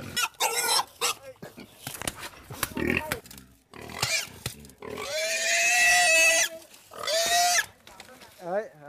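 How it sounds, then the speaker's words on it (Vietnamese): Pigs being caught for Lạng Sơn roast pork, squealing loudly in long shrill bursts with grunts and scuffling between them, close by. "Bắt lợn quả là không dễ chút nào."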